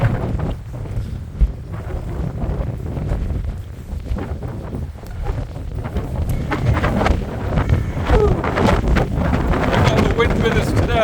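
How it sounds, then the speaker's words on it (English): Strong, gusty wind blows across an outdoor microphone beside a former corporate head office building, a steady low rumbling roar throughout, with some faint background sounds mixed in. "Wind with us today, very blowy."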